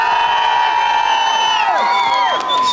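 A festival crowd at a Grillfest food event cheers, whoops and applauds loudly for a contest winner, a steady dense roar of voices with high shouts rising over it throughout.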